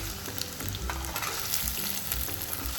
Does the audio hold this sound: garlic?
yes